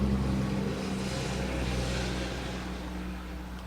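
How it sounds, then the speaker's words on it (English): A loud car passing close by, a steady low engine rumble and broadband roar that holds for several seconds and slowly fades, with no talking. "Wow, that's a very loud car."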